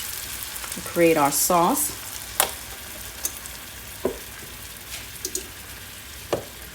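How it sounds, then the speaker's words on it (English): Heavy cream hitting a hot pan with seared salmon gives a steady low sizzle with scattered pops and drips, and a voice speaks briefly near the start. "Now to this, I'm going to add some heavy cream"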